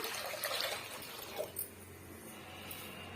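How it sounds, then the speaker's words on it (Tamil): Water poured into a cooking pot while making a sweet corn dish in a home kitchen: a faint, close trickling and splashing that fades after a short pour, over quiet room background. "தேவையான அளவுக்கு நம்ம தண்ணி சேர்த்துக்கலாம்"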